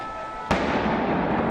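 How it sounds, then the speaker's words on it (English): At the Bataclan Theater in Paris during an attack, a sudden loud blast bursts in abruptly, then gives way to sustained rough crackling and rumbling noise that stays loud to the end. "A photographer taking cover captured the chaos as explosions and gunfire rocked the Bataclan Theater."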